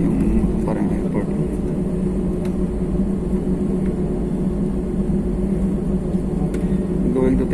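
A passenger airliner sits ready for takeoff at Bahrain airport, its engines giving a steady, loud, continuous hum from inside the cabin, with voices talking faintly underneath.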